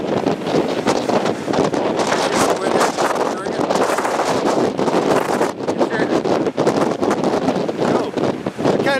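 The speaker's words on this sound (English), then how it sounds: "I'm going to go into the wind now" Gusty wind buffets a camera microphone outdoors, a loud, continuous rumbling roar that surges and dips without letup.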